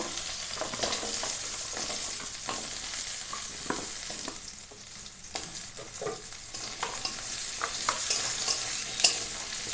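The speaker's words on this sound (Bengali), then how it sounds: "চিংড়ি ভাজা তেলে আলুগুলো ভাজবো" Potatoes frying in oil left over from frying shrimp, a continuous close sizzle with scattered pops and utensil scrapes, dipping briefly midway, no voices.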